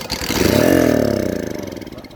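A motorcycle engine catches and revs up after starting, then settles into a rapid putter that slows and fades slightly, loud and close with no talk.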